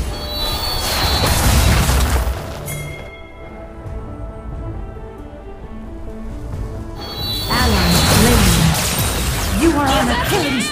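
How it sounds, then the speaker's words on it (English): Turret destruction in League of Legends during a Veigar jungle match: loud crashing booms and crumbling impacts at the start and again near the end, with a quieter lull between and game announcer voice lines over it. "Enemy turret destroyed."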